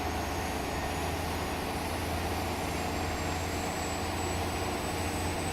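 Diesel locomotive engine in the Train Sim World 6 simulator drones steadily with a deep hum, while a thin high whistle rises faintly over the rumble partway through; no one speaks.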